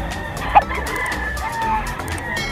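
A young gamecock stag crows among other fowl, with clucking and calls from nearby chickens forming a busy farmyard backdrop, while voices murmur faintly underneath.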